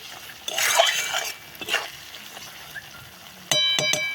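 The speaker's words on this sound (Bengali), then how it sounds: "দেখো, ভালোভাবে মশলাটাকে কষিয়ে নিতে হবে।" Mutton masala is sautéed and stirred in a pan, with short bursts of scraping and sizzle, then a ringing metallic clink from the utensil against the pan near the end.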